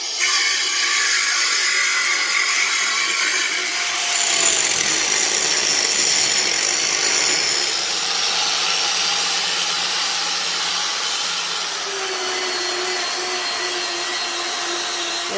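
A power tool grinds and cuts through a metal motorcycle frame in a workshop, giving a loud, continuous high whine close up that holds steady throughout with slight shifts in pitch.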